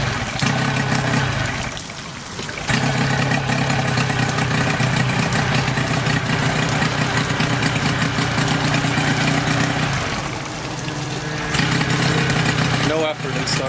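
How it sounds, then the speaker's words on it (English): A Nissan 8hp longshaft tiller two-stroke outboard motor idles with a steady, buzzy putter, close and continuous, dipping briefly twice; a voice talks over it at times. "It's a very nice outboard motor."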